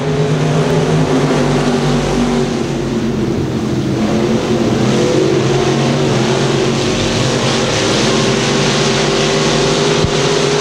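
Race cars in an 8-lap heat race at Thunder Hill Speedway, a loud continuous roar of several engines droning together, rising and falling slightly as the pack circulates, with no clear speech over the noise.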